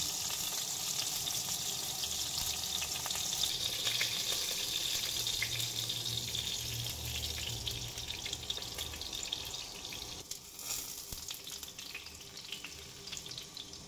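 Meat-stuffed tofu pieces fry in hot oil in a pan, browning on every side, giving a steady close sizzle and crackle with faint clinks and stirring throughout.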